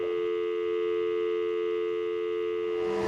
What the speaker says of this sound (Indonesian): Saluran telepon kemudian putus tiba-tiba.